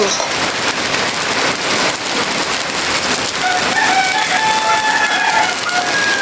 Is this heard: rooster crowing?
yes